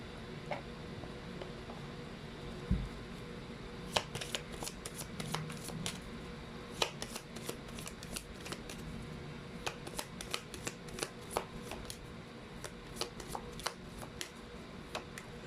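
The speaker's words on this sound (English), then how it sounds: "Let me just pull up another card here." Tarot or oracle cards for a pick-a-card reading being shuffled and drawn, a steady soft riffling with crisp card snaps clustering in bursts, close and fairly quiet, with no talking.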